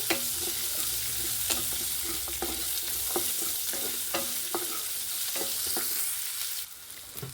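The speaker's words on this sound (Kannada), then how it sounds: "ಇದು ಈರುಳ್ಳಿ ಎಲ್ಲ ಫ್ರೈ ಆಗಿದೆ." Chopped onions and curry leaves frying in oil for a tempering, a steady close sizzle broken by regular scraping clicks of a spoon stirring the pan, with no talking.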